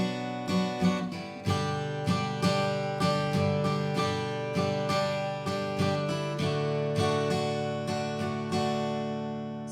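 An acoustic guitar strums the chords of a song in a repeating down-down-up-down-up pattern, each stroke crisp and ringing, played close and clear with no voice.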